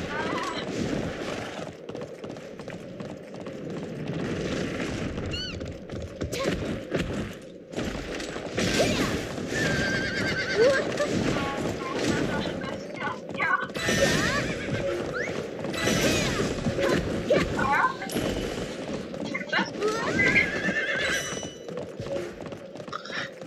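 A horse in a video game whinnies and clip-clops along steadily, mixed with constant game noise and a person talking over it throughout.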